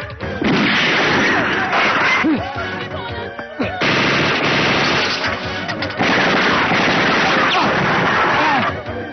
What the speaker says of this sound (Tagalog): kasalukuyang may nagaganap na palitan ng putok sa pagitan ng